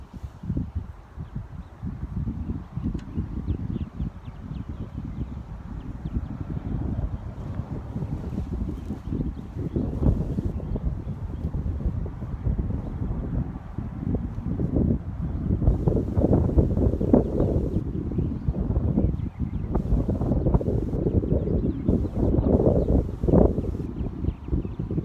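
Gusty wind buffets the microphone at a golf driving range at Santa Maria in Baton Rouge, a steady low rumble that swells and eases without a break, with no voices.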